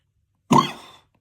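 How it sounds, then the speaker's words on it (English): A single harsh cough from someone who has just inhaled seasoning while mixing a tri-tip steak rub in a backyard, short and close, with a brief raspy tail and silence around it. "as I'm still trying to cough from inhaling it"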